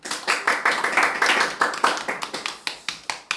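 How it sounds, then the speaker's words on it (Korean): Congregation at a church middle and high school youth service clapping to welcome returning students, a dense patter of many hands that thins toward the end into a few looser, rhythmic claps. "우리 박수로 환영해 주시면 좋겠어요."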